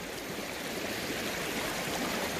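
Cold outdoor stream flowing over rocks, a steady, full rushing and gurgling wash of water that stays constant and fairly loud throughout, with no voices.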